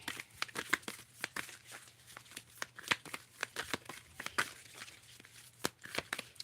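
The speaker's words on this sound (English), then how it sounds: "you notice that I'm still shuffling and I'm still pulling love cards" Tarot cards being shuffled by hand, a quick run of crisp riffling snaps and soft slaps, close and fairly quiet, repeating in an irregular rhythm.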